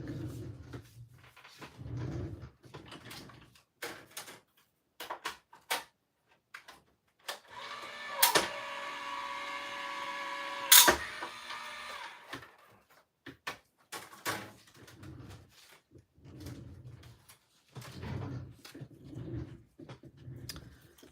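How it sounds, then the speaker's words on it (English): A manual die-cutting machine cranking a Halloween card with deckled-edge and circle dies, a steady grinding, whirring roll lasting a few seconds with sharp clunks at the start and end, between quiet handling noises. "Okay, I'm going to run this through my machine."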